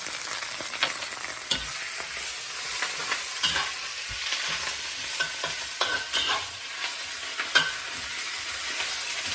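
Gai lan and minced garlic tossed in a hot pan produce a continuous bright sizzle, with frequent clicks and scrapes from constant stirring and no voices.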